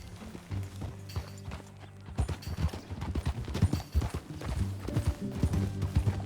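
Horse hooves clip-clop in a steady walking rhythm on the ground in Red Dead Redemption 2, close and continuous, with a low ambient background.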